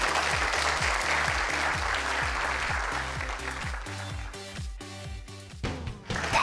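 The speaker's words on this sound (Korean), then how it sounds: "박수 소리가 전화 왔을 때보다 훨씬 더 좋아요." Studio audience applause on a Korean science television program, loud sustained clapping over a repeating low musical beat that thins out toward the end.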